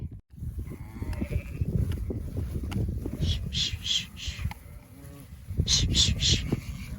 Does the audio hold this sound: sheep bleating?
yes